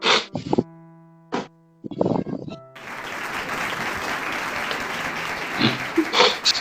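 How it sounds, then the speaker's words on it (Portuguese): After a few short spoken phrases, an audience breaks into sustained applause that continues steadily to the end, with brief voices over it. "Palmas, cara."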